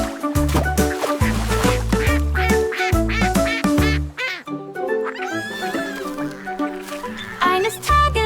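A cartoon duckling quacks playfully amid bright, bouncy music, the quacks loud and close among rhythmic beats with no talk.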